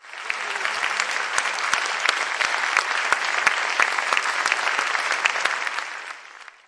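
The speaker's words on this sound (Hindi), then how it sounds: "जोरदार तालियों से मंच पर स्वागत करती हूँ" A crowd at a Hindi poetry gathering (kavi darbar) breaks into dense, steady applause to welcome a poet to the stage, sustained and close for several seconds before it fades.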